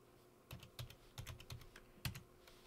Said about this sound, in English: And my password.